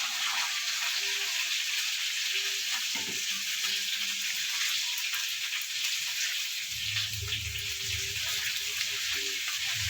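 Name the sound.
water added to spice mix sizzling in pan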